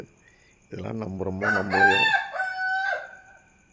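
Someone speaks briefly over the start of a rooster's dawn crow, a loud, close call that climbs into a long wavering held note and then ends.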